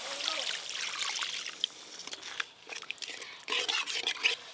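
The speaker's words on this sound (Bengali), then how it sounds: "জল দিয়ে দেব।" Water is poured into a pan of spiced curry gravy, with the masala already fried until the oil separates. It makes a steady close trickling and splashing with a bubbling hiss for several seconds and no talking.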